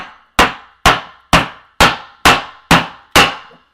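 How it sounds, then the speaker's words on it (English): Seven sharp, evenly spaced hammer blows on plywood laid over a metal alcohol stove ring out with a metallic clang, each fading quickly before the next strike. "Grab a piece of plywood, put it on top of it, kind of firmly so it's like same level. And just hammer it down."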